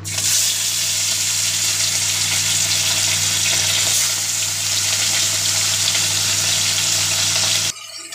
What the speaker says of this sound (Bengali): তেল গরম হয়ে গেছে, আমি মাছগুলো ভেজে নেব।